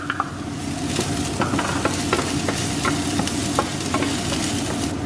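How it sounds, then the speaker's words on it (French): Garlic and onions sauté in a small amount of olive oil, giving a steady close sizzle with a string of light clicks and scrapes from stirring in the pan and no talking. "Donc un peu d'huile d'olive. Vous voyez, hein, pas beaucoup. L'ail et les oignons."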